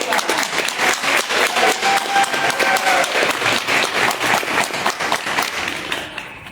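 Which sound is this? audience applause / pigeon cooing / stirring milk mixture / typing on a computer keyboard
audience applause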